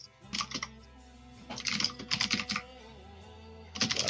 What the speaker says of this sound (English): aggressively fucking typing. Jesus, that's so loud.